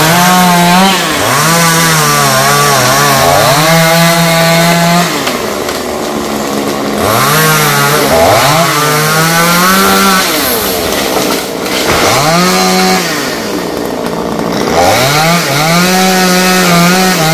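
A chainsaw cuts branches from a large rain tree, revving loudly and close in repeated bursts that rise into the cut and drop back to a lower idle between passes.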